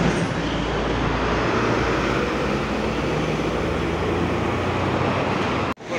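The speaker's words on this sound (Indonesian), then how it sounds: "ada Eka Cepat dari Semarang ini menurunkan penumpang" An Eka Cepat intercity bus from Semarang idles while dropping off passengers under a toll-road overpass, its loud, steady, broadband engine rumble and roadside noise filling the whole stretch before a brief dip near the end.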